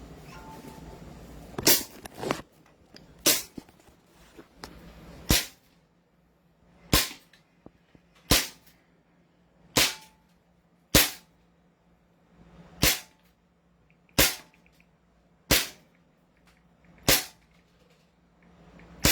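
A Beretta BLK toy gun fires about eleven sharp, loud shots one at a time, the later ones spaced at a steady pace of roughly one every second and a half, each a crisp crack with a short tail.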